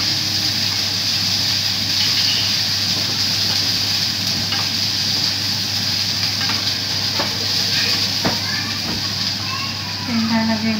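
Bitter gourd (ampalaya) frying and being stirred in a pan with fried fish, a steady loud sizzle throughout with occasional scraping taps of the spatula.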